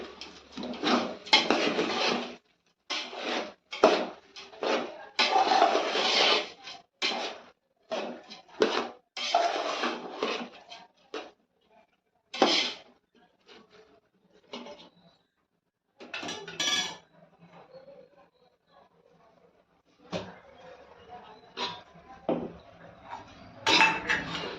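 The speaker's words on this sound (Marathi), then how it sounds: "आता हे छान असं तांदळासोबत आपण मस्त मिक्स करून घ्यायचं आहे" Pot and spoon clatter as mutton biryani is stirred into rice, a string of irregular metallic scrapes and clinks in bursts with brief pauses, close and fairly loud, no talking.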